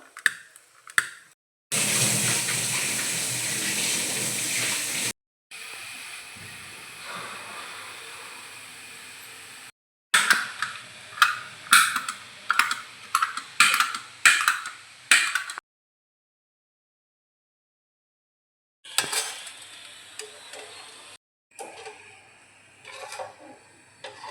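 Sev dough is pressed into hot oil over a high flame, giving bursts of bubbling hiss and crackling ticks that start and stop abruptly, with silent gaps between the frying stretches.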